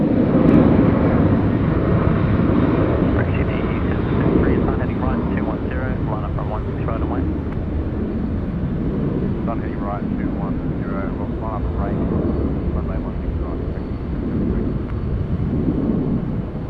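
An aircraft takes off from runway 16 right at Sydney Airport, a broad, steady engine roar holding through the whole stretch while air traffic control radio chatter and voices run over it.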